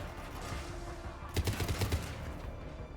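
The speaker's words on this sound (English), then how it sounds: "Dang, this is a very effective rifle." Mass Effect 3 rifle fire sounds as a burst of rapid automatic shots, a rattling cluster of sharp cracks that rises over a constant low game-ambience rumble, with no speech.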